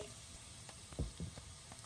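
Chicken and vegetables stir-frying in a pan, a quiet, steady sizzle with a couple of soft clinks from stirring, close and without talk.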